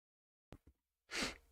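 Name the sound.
sneeze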